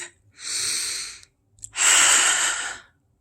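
Two deep, close breaths in sequence, a long airy inhale and then a fuller exhale, sound clearly against near silence.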